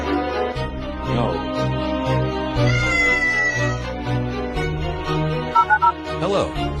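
A cat meows in distress through a few drawn-out, wavering cries over a busy musical background with other noises mixed in.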